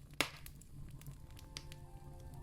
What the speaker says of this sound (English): listen to that woodwick crackle